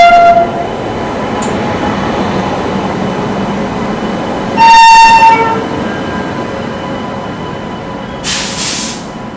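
The 14217 Unchahar Express pulls into platform 1 at an Indian station, a loud steady rumble of rolling coaches with a drawn-out horn blast midway and a brief hissing burst near the end.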